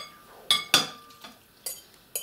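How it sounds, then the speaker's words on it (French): A spoon stirs cream and golden fried onions into a tortilla mixture, a few sharp clinks and scrapes against a bowl spaced out against quiet. "Je mélange."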